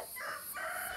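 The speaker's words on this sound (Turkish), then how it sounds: "Direkt tavuk çağırıyor." A rooster crows in two drawn-out calls, fairly faint against a steady background hiss, with no talking.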